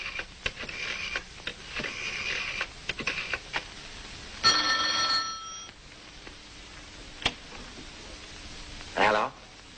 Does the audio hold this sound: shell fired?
no